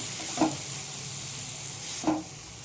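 Chickpea greens dropped a little at a time into a hot pan, giving a steady sizzle with two brief louder bursts as fresh handfuls land, no voices.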